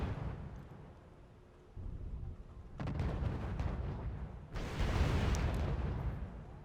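Dense artillery and gunfire pounding Abrams tanks in the strategy game Wargame: European Escalation, a continuous rumbling barrage that grows heavier in stages with rolling blasts and crackling impacts.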